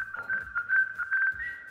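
Someone whistles close into a microphone, a thin steady tone broken into short warbling notes for under two seconds, with faint background game sounds beneath.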